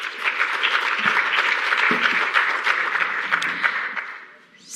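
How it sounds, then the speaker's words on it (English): Audience applause fills a symposium hall after a session, a steady dense clatter of many hands that holds for several seconds before tapering off at the end. "A round of applause, please,"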